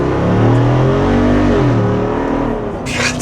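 A Jeep Wrangler 392 with a HEMI V8 accelerates hard, its loud, close engine note rising steadily through the revs, followed by a brief burst of rushing noise at the end.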